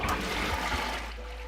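Thick, foamy liquid shampoo mixture of Moroccan clay and castor oil being poured, a close gurgling trickle that runs for about a second and then fades out.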